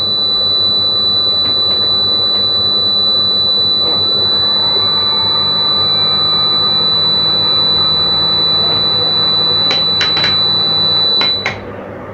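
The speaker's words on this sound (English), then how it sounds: "you can see that the bell is start ringing." An electric alarm bell on a science-fair water-wastage alarm rings as a steady, loud, continuous buzzing tone that holds throughout, with a few sharp clicks near the end before it cuts back.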